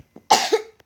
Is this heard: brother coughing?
yes